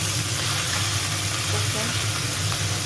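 Sea bass sizzles in a frying pan with hot oil, a steady dense crackle up close, continuous throughout with a faint low hum beneath.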